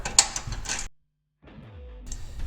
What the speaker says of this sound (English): Now we have 2 1/2 inch bolts holding on the muffler here. We back both of those out.